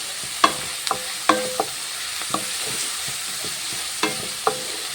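Onions and curry leaves sauté in a pan for chicken curry. A spoon stirs with a handful of sharp clinks and scrapes at irregular intervals over a soft, steady sizzle, with no talking.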